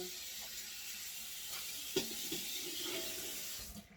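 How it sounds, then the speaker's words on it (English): Tap water runs into a bowl being rinsed at a kitchen sink, a soft steady hiss with a few clinks, fairly quiet, cutting off at the end. "So I'm going to rinse this bowl out so I can"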